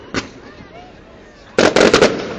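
Fourth of July fireworks in West Allis, Wisconsin, start with one sharp pop, then a quieter lull, then a loud volley of rapid cracking bursts that follow one another quickly.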